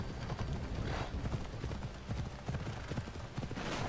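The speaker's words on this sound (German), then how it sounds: "Guck mal, hübsches Pferd." Steady clip-clop of horse hooves in Assassin's Creed Odyssey, a quick repeating rhythm, fairly close and continuous over a soft background.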